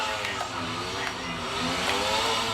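A car in the GTA video game pulls away from a standing start, its engine drone climbing steadily in pitch and staying loud and continuous throughout, with faint talk underneath.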